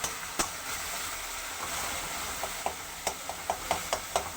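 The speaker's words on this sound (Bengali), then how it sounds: "এবার এটাকে ভালো মতন কষাবো ভালো মতন কষাতে হবে" Dhokar dalna, a lentil cake curry, sizzles in a pan under a steady frying hiss while a utensil scrapes and stirs it in quick, regular taps, close and fairly faint.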